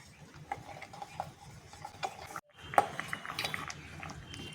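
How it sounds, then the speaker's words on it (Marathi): Hot chocolate is stirred in a pan on the stove, a spoon scraping and clinking against the metal in a quiet, irregular rhythm with soft wet sloshing, close and alone. "याला मस्त चमक येईपर्यंत आपण हलवत राहू"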